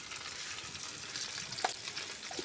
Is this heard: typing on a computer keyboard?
no